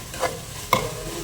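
Chicken and broad beans sauté in hot oil, giving a steady soft sizzle with two brief scraping stirs of a spoon against the pan, close and fairly quiet, with no talking.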